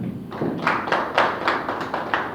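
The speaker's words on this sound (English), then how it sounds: "A round of applause for them" Applause from an audience at a 2022 ESG leadership summit, greeting the event's sponsors: a moderate patter of hand claps in uneven bursts, swelling and easing over a couple of seconds with a dull room tone beneath.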